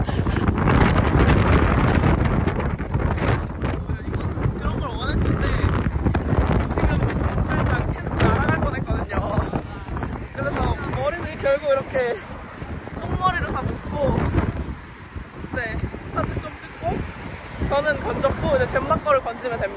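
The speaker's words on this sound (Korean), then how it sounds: "날씨도 너무 좋고 다 좋은데 바람이 너무 많이 불어가지고" Strong wind on a Miami beach buffets the microphone in rough, rumbling gusts throughout. Someone talks over the roar in places.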